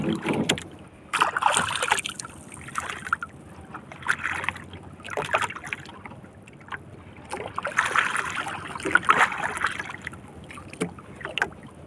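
Sea waves slap and wash around a small boat on choppy water as the wind picks up and the crests turn white, with gusty wind buffeting the microphone in irregular bursts throughout.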